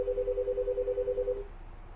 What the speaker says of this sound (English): I did not turn my phone off.